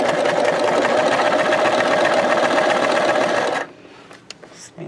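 A sewing machine runs steadily while stitching a linen pocket, giving a close, fast mechanical whir for several seconds before it stops abruptly. A few faint taps follow in near-quiet.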